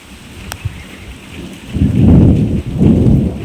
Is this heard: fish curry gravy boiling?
no